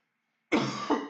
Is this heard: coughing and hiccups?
yes